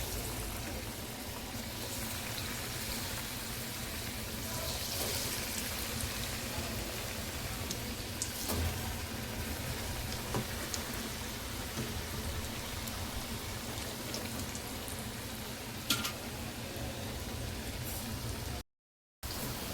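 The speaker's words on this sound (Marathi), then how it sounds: "तळून घेते थोडे थोडे" Batata vada (potato fritters) deep frying in oil, a dense, even hiss and crackle like heavy rain that runs continuously, broken only by a brief cut near the end.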